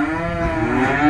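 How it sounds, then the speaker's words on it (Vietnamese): A large cow lowing in a long, loud, close moo at a cattle farm pen, one sustained call with no talk. "Bò này rất lớn con."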